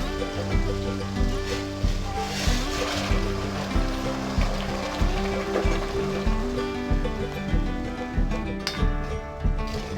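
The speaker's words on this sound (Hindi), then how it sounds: "अब हम इसमें पानी डालेंगे" Boiled water pours into cooking masala in a pan, a watery rushing and splashing over continuous sizzling with a recurring pulse, close and without talk.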